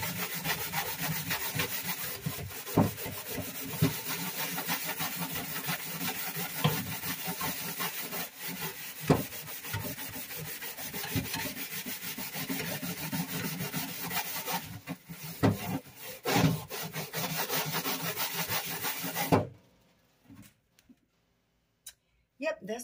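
Brush bristles scrubbing the top of a dirty oven during deep cleaning, a steady rapid back-and-forth scratching close by, with a few louder strokes and knocks before it stops near the end.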